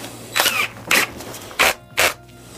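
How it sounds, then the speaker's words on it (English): Four separate brisk strokes of a wire brush scrape across the case halves of a 1965 VW 1200 40hp engine, each a short harsh burst with brief gaps between, close and fairly loud. "run the wire brush around these things"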